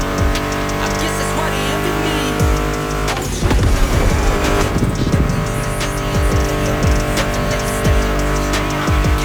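Race car engines in the video game The Crew: Motorfest rev loudly and up close with brief tire squeals, set against a steady layer of background music.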